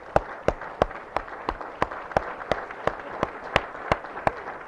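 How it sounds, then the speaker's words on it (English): Audience applause for village trustees at a community state-of-the-village meeting, heard as a run of sharp, evenly spaced single claps standing out over a low crowd murmur. "Can we please give them a round of applause?"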